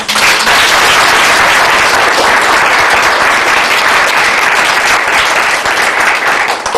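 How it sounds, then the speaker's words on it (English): Loud, sustained applause from an audience at a talking book library celebration in Colorado, thanking volunteers, with dense, even clapping that barely changes in level and no speech over it. "Can we do a round of applause?"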